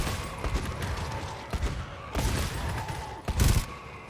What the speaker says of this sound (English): I love sniper sentries